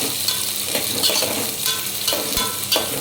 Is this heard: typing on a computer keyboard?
no